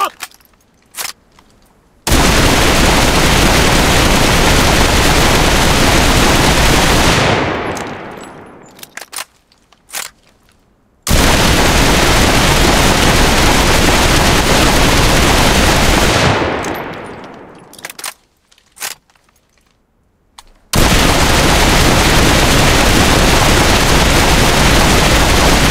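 An SIG M1920 fires long sustained automatic bursts in the game Enlisted, each a loud close roar that fades to a mechanical reload clatter before the next burst starts, with no talk.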